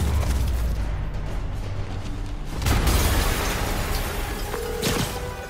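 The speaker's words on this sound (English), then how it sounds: "Yuri, an explosion just" Explosion in Marvel's Spider-Man Remastered, a deep, sustained rumbling blast with a heavy low-end roar that swells again midway, followed by debris and mechanical rattling, loud and without speech.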